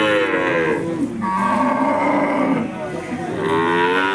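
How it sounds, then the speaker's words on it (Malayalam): Cows low repeatedly at an outdoor cattle market, loud, drawn-out moos close by, one after another, with crowd noise behind them. "നല്ല നല്ല അടിപൊളി പശുവായിട്ട് നല്ല പാലും കറവൊക്കെ ഉള്ള പശുക്കളാണ് ആ ഏരിയ ഇപ്പം ഉള്ളത്"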